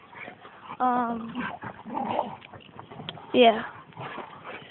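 A pet dog whimpers close by in two thin, rising whines, with a little growly yipping between them, while someone talks over it.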